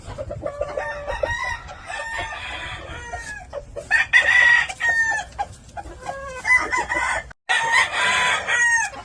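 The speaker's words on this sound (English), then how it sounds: "That's an older hen and a young cock." Blueface chickens, an older hen and a young rooster, cluck and crow close by, with repeated calls and short pauses and no people talking.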